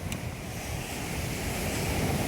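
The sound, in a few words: rough sea waves on a rocky beach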